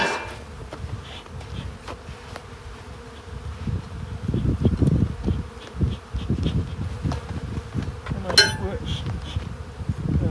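A dense swarm of honey bees buzzes close by from an opened hive, a steady droning hum that swells and thickens, with a few soft knocks underneath.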